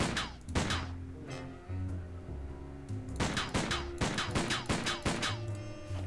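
Repeated gunfire aimed at a shark in the adventure game Sam & Max Save the World, sharp bursts in two clusters with a pause between, over a steady musical backdrop, no talking.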